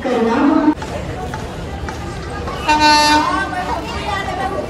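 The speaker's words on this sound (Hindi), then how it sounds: "12933 कर्णावती सुपरफास्ट एक्सप्रेस का अराइवल सूरत के प्लेटफॉर्म नंबर 1 पे, और ये ट्रेन आई है WAP 4 के साथ" Indian Railways WAP-4 electric locomotive hauling the 12933 Karnavati Superfast Express into platform 1 at Surat station, sounding a sustained horn blast that rises over the platform din, with people talking nearby.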